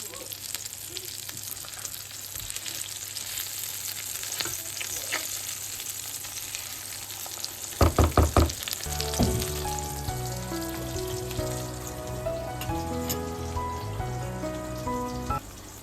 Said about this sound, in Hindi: यहाँ पे मेरे चपली कबाब फ्राई हो रहे हैं।